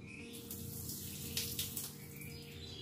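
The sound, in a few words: washing sago in filtered water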